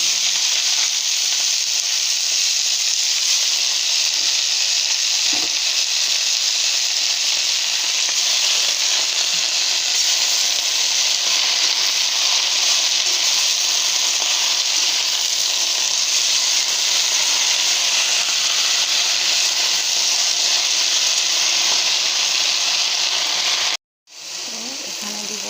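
Spinach with bay leaves frying in a pan, giving a loud, constant sizzle and hiss that carries steadily with no voice, then cuts out briefly near the end.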